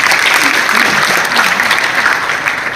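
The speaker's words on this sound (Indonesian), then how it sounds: "Tepuk tangan buat Skala dulu." Audience at a technical workshop in a hall gives loud, dense, sustained applause, a continuous wash of clapping from a large crowd with faint voices underneath.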